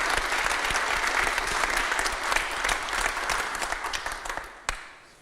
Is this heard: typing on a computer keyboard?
no